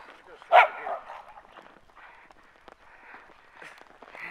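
Dogs, a boxer among them, playing in snow give one sharp close bark followed by quieter yips and scuffling noises.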